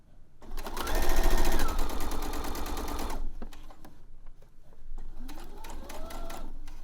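A sewing machine stitching knickers fabric, a loud steady rapid whirring run that stops, then quieter clicks and a second shorter stretch of stitching.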